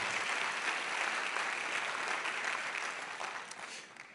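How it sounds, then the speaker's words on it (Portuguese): Church congregation applauding in a dense, steady wash of clapping that fills the space and fades slightly toward the end, with no talk over it. "Se é para Jesus, você pode aplaudir, sem medo"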